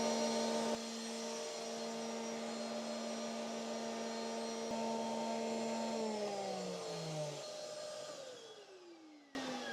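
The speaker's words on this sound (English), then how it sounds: "set my vacuum cleaner up." A workshop vacuum cleaner runs steadily at close range with a strong whine, set up for cutting joinery frames for panelled doors; after about six seconds the motor winds down with a falling pitch and then stops. No one speaks.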